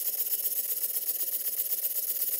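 A vintage model steam boat engine runs steadily while sitting unfastened in its mount, turning the propeller with a soft, even mechanical whir and rapid rhythmic ticking, close and fairly quiet, with no voices.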